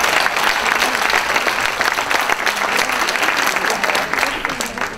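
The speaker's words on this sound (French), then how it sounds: "On l'applaudit." An audience at a regional final of a three-minute thesis science-communication contest applauds a contestant: a dense, steady wash of many hands clapping, loud and sustained throughout with no break.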